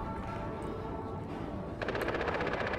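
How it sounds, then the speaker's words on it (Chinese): Machine gun fire in the video game Far Cry 4: a steady wash of game noise gives way near the end to a loud, rapid burst of automatic shots. "有啲机枪声"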